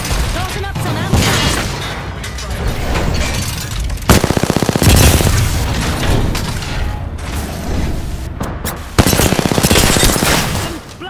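Video game firefight, heavy and loud, with sustained machine-gun bursts, rapid rattling fire and booming impacts over a dense battle din, a voice speaking through it.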